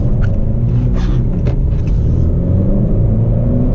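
A 2018 Honda Accord Sport 2.0T with a six-speed manual pulls uphill, its engine giving a steady, close low rumble under load with no break.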